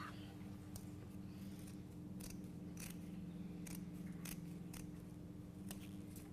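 Scissors snip through paper while cutting out a door hanger, giving a string of separate crisp cuts at an uneven pace over a steady low background hum.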